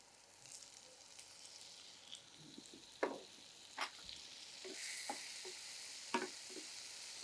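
Eggplant and tomato sautéing in a pan give off a faint, low sizzle, broken by a few soft scrapes and taps of stirring. No voices are heard.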